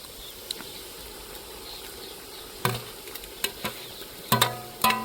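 Tomatoes go into a sizzling ginger, garlic and chili paste for Gujarati tuver thotha, a faint steady frying hiss broken by several sharp clatters of a spoon stirring in the pan.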